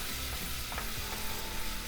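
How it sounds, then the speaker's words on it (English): Steady frying sizzle of garlic in a pan, a constant crackling hiss at close range with faint stirring scrapes, no voices. "Get a nice sizzle on it."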